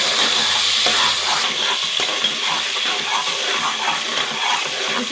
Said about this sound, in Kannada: ಈಗ ಈರುಳ್ಳಿ ಫ್ರೈ ಆಗ್ತಾಯಿದೆ